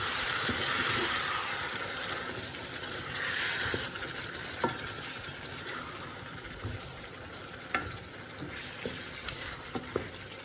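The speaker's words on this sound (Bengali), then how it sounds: "এখন আমি এটার মাঝে পানি দিব।" Beef simmering in a pan of spices after about ten minutes of frying, with water just added: a steady soft sizzle and hiss with occasional light clicks and stirring taps, fairly quiet and close.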